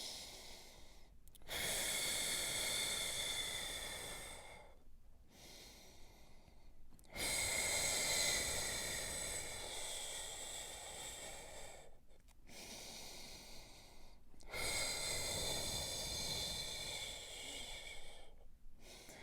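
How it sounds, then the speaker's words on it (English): Slow, deep belly breathing, in through the nose and out through the mouth, in a quadruped position: long, airy inhales and exhales at close range, each lasting several seconds and separated by brief silent pauses. "Breathing in through my nose, into my belly. Breathing out through my mouth."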